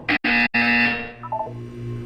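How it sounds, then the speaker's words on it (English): A loud, harsh electronic buzzer from the Portal 2 video game sounds in three quick bursts, then a long held tone that fades, with a brief beeping tail near the end. "When you hear the buzzer, look down at the floor."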